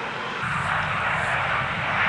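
An eight-wheeled, streamlined Japanese electric car speeds past at over 300 km/h, giving a steady broad rush of air and tyre noise with no engine sound, loud and even across the whole stretch.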